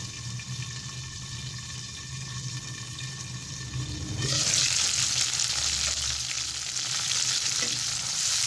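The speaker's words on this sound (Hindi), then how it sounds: "अब हम इसके अंदर पेस्ट ऐड कर देंगे टमाटर और हरी मिर्चों का" Tomato and green chili paste, ground with a little water, hits a hot pan and sizzles loudly, a steady frying hiss that flares up sharply halfway through and holds, close and without speech.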